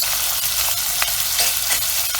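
Mackerel pie filling fries in a pan with a steady, dense sizzle and a few faint stirring scrapes, close and continuous, with no voices.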